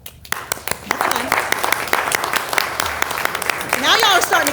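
Audience at a State of the City address clapping and whooping, a dense steady wash of applause with bright rising whistles and cheers swelling louder toward the end.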